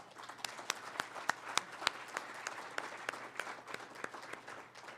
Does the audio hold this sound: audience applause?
yes